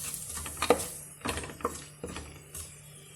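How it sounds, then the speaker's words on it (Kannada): Whole spices such as bay leaf, fennel, cinnamon, cloves and cardamom are stirred in hot oil in a pan, with soft scraping strokes every second or so over a faint sizzle, close by. "ಹಾಕ್ಕೊಂಡು ಸ್ವಲ್ಪ ಫ್ರೈ ಮಾಡ್ಕೊಳ್ಳಿ."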